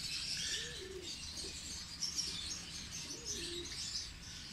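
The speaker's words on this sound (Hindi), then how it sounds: "ये सलारे हैं प्योर सलारे कबूतर" Salara pigeons coo softly in low, rolling calls, twice, under a busy chorus of chirping small birds nearby.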